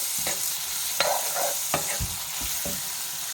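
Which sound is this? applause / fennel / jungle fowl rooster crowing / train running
fennel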